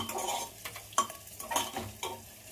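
Green chillies sautéing in a pan for khichdi give a steady sizzle broken by several scraping stirs of a spoon against the pan, close and fairly loud, with no voices.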